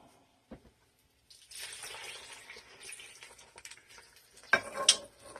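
Tomato paste is stirred into red wine in a bowl, giving soft scraping and swishing spoon sounds with a few clinks of utensil against the bowl, close and alone.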